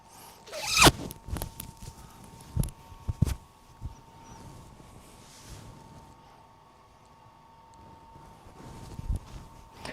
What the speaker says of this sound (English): Now zip up the jacket.